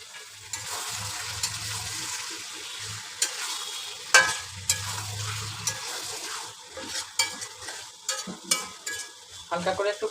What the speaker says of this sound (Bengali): এখন আমি দিয়ে দিব হাঁসের মাংসগুলো।